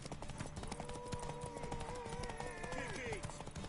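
Rhythmic clip-clop of a galloping horse's hooves in The Witcher 3: Wild Hunt, over background music and ambient game sounds, steady and moderately loud.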